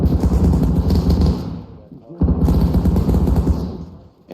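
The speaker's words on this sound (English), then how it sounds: "We're engaging with our Mark 48s at the sun. I'm pounding the shit out of that thing." Sustained bursts of Mk 48 machine gun fire during a field training exercise, loud and close, with two long rapid strings of shots broken by a short pause, with a voice talking over the firing.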